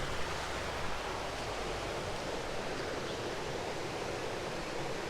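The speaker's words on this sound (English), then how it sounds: "This is the River Solby, and the River Solby is the longest river in the Isle of Man." The River Sulby, longest river on the Isle of Man, flowing through a wooded glen: a steady, dense rush of water with no breaks, close by and fairly loud, with no voices.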